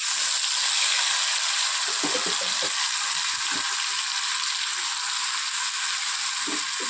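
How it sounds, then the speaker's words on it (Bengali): Lota fish fries in mustard oil in a kadai, with a continuous bright sizzle throughout and occasional low scraping knocks as the pieces are stirred. "সম্পূর্ণ মাছটা দিয়ে দিয়েছি। এবার একটু নেড়ে ছেড়ে দেব।"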